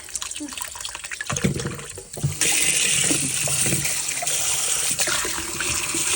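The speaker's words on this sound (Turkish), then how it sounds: "Böyle güzelce bir yıkayalım arkadaşlar." Jerusalem artichokes from a home garden are washed under a running kitchen tap, with water splashing and gushing steadily into a sink while someone talks over it.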